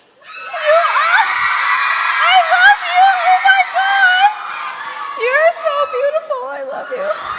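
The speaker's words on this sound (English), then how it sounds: "So just get your scream out." A crowd of fans at a social media event screams in high-pitched, excited voices, a loud shrieking roar that rises and falls in waves, with squeals and laughter mixed in.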